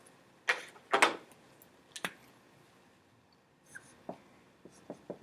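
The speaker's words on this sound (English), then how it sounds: "Let's write this down first and then we can check if it's correct." Notes are written by hand in short scratchy bursts of pen or pencil strokes, close and fairly quiet, with pauses between strokes.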